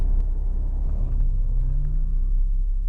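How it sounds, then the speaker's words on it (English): A truck passes during an F3 tornado near Dunn, North Carolina, as a deep rumbling engine sweeping by over a steady low roar, with no talk. "A truck just went by."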